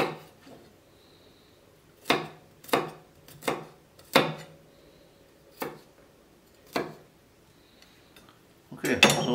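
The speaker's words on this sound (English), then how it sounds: "once we've chopped our garlic" A knife chopping garlic cloves on a board for a pork curry: about eight separate sharp knocks at an uneven pace, fairly close, with a brief clatter of utensils at the end and no talk.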